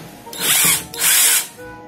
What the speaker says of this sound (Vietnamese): Đây là cái khoan auto này. Đây là mình lắp đầu bắt vít.